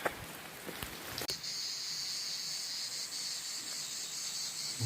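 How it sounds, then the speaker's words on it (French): Cicadas sing along a pilgrimage trail on the Camino de Santiago, a steady high buzzing drone that starts after a few light clicks and continues unbroken throughout. "Donc ça, c'est les premières cigales qu'on entend."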